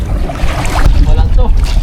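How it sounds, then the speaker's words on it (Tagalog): Paddles splash and churn water around a small boat (bangka) off Silangin, Subic, Zambales, with wind buffeting the microphone and a voice talking intermittently over the sloshing. "Bali salita na lang po kami ni Junjun magsagwan."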